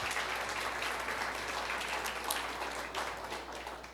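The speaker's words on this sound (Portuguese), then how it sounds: "Quem pode aplaudir ao Senhor por essa vida?" A church congregation applauds steadily after a pastor's sermon prompt, a dense, even wash of clapping held at moderate level for about four seconds, tapering slightly at the end.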